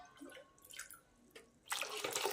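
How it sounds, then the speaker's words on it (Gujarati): Water poured into rice for a Gujarati khichdi cooked for three people, a brief splashing pour that starts faint then turns into a louder, steady gush near the end. "ત્યારબાદ આ ટાઈમે આપણે એમાં પાણી નાખીશું."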